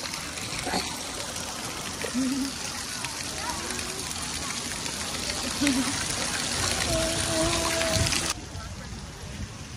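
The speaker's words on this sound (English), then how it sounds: "voilà c'est la pluie" Rain pours onto an outdoor swimming pool where children are swimming, making a steady broadband hiss of drops hitting water and pavement. Voices are faintly present, and the wash cuts off abruptly near the end.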